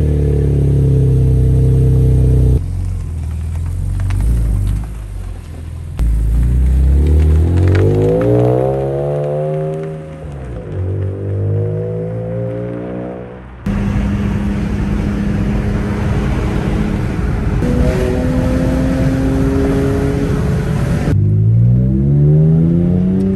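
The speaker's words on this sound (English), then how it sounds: "Let's get today started with a cold start." A BMW E46 M3 engine fires up from cold, loud and close, its revs rising and falling in sweeping pitch changes across several cuts, settling into a raised idle.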